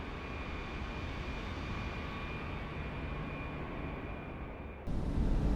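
A Vueling A319 airliner brakes manually on the runway after landing at San Sebastian, in the MSFS 2024 flight simulator. A steady engine and rollout roar holds throughout, with an abrupt shift in tone near the end.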